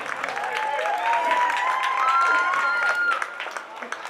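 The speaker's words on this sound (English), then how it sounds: "Let's give the 9th graders a big warm round of applause." A high school football crowd applauds and cheers for the ninth-grade class, a dense wash of clapping with a whistle-like tone sliding over it, then fading as the ovation tapers off.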